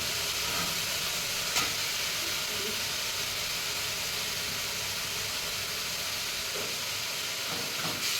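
Saag greens frying in a pan give off a steady, quiet sizzling hiss that runs evenly throughout, with no voices over it.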